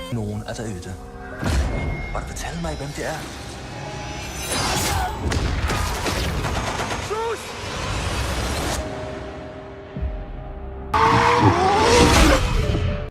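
Racing cars in Forza Horizon 4 roar past with engine revs, tire squeals and skids, plus a few heavy booms, loud and busy throughout. A narrator speaks over parts of it.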